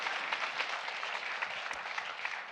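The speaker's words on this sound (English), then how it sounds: "let's give a big applause to Angelo Vassallo" Steady applause from an audience at a talk honoring a murdered mayor, many hands clapping in a dense, even patter at moderate distance with no voices heard.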